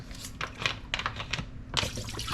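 Trimmed oxtail being rinsed under water, with close splashing and sloshing in short bursts over a low hum.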